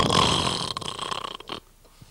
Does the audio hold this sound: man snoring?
yes